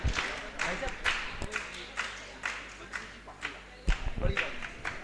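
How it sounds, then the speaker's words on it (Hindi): Scattered clapping from a small gathering welcoming guests at a religious seminar, irregular claps and a few louder bursts rather than a full sustained ovation, with a voice speaking over them. "जोरदार तालियों से आप सभी स्वागत करेंगे।"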